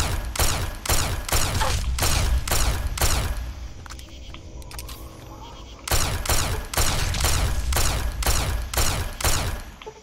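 Fallout 3 video game gunfire comes in two fast volleys of sharp repeated shots, loud and close, separated by a quieter pause of a couple of seconds.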